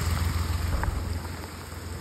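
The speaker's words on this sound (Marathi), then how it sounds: "नॉर्मल पाऊस आहे." Steady rain falls during landslide season in Roha, a continuous dense hiss with no voices.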